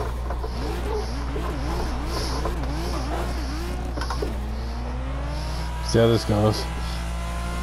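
A turbocharged car with heavy turbo lag in Assetto Corsa on the Highlands track for PS4, its engine rising and falling in revving sweeps, then surging to a sharper note near the end, under a brief spoken line.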